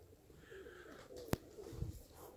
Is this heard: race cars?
no